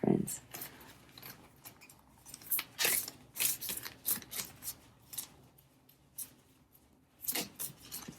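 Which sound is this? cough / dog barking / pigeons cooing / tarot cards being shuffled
tarot cards being shuffled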